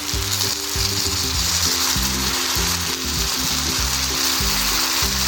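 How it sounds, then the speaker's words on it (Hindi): Red chili powder and ginger-garlic paste sizzle loudly in hot oil for a chicken and bitter gourd curry, a steady dense frying hiss with faint stirring underneath and no talking. "ये डाल देंगे और अदरक लहसुन का पेस्ट डाल देंगे।"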